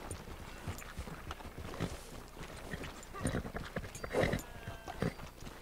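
Horse hooves clip-clop at a walk in Red Dead Redemption 2, a faint, uneven run of soft beats with a few firmer steps near the end, heard in a western town beside a saloon.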